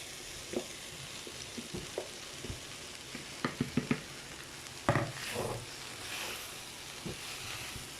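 Washed rice flakes (aval) added to onions frying in a pan for upma, with a soft steady sizzle and scattered scraping, clinking stirs up close, no talk.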